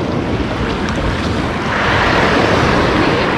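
Light sea waves wash onto the shore at Lazarevskoye on a fresh August morning, a close, continuous surf rush mixed with wind buffeting the microphone that swells in the second half.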